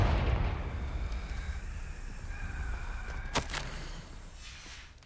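Confringo blasting curse in Hogwarts Legacy erupts as a deep booming explosion that rumbles and fades over several seconds, then a sharp whip-like crack cuts through midway before the rumble dies away; no talking.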